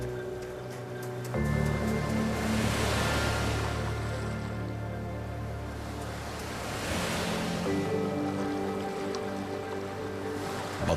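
Ocean surf along the Florida coast rolls in a steady broadband wash, swelling and easing in long surges beneath a sustained low musical drone throughout.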